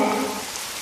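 Rain falls in a cartoon about a little bird's nest, a brief hissing patter of drops that starts strongest and softens quickly.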